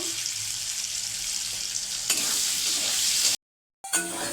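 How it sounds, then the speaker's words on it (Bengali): Potatoes frying with salt and turmeric in a pan while prawns wait nearby, a steady close sizzle with stirring scrapes that flares louder partway through, then drops out briefly before resuming. "নুন হলুদ দিয়ে একটু আলুটা ভেজে নেব।"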